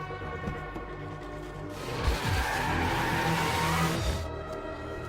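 An antique Mercedes in a film scene pulls away with tires squealing, a sustained skid rising over engine noise for a couple of seconds before easing off, loud and close with no talk.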